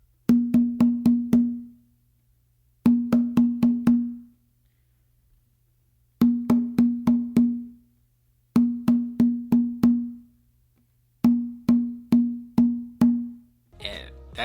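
A hand drum plays a weak tumbao exercise ending on open tones, sounding as five separate bursts of about five quick, ringing strokes each, with short silences between bursts and no talking.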